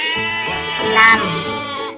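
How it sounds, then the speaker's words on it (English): A single sheep lets out one sustained, wavering bleat lasting about two seconds, close and clear. "Sheep."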